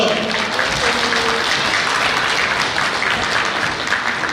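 Wedding guests applaud the bride and groom's entrance at a convention hall wedding with loud, continuous, dense clapping, and faint voices mixed into the crowd.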